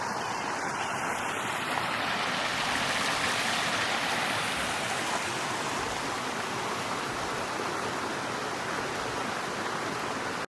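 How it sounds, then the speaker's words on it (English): A waterfall cascades down layered rock in a gorge in Karijini, Western Australia, producing a steady, loud, broadband rush of falling water that holds unbroken throughout with no voices. "A lovely waterfall cascading down the rocks."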